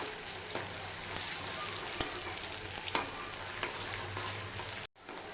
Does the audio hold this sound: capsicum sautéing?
yes